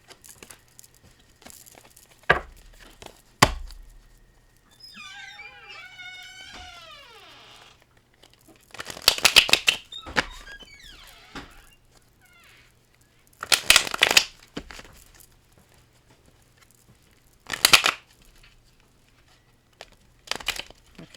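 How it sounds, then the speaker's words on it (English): Tarot cards are shuffled in several separate bursts of quick, crisp riffling, each lasting about a second, spaced apart with quiet pauses, plus a brief higher whistling sound early on. "it does not want me to shuffle anymore"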